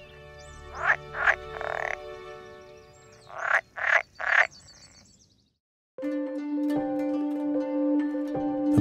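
Pool frogs, a type of water frog, call loudly and close by in a series of rapid croaking bursts, then break into a sustained, ringing chorus of overlapping calls.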